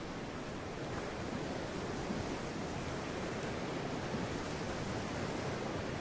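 Ocean waves make a faint, steady, even wash of broadband surf with no breaks and no voices.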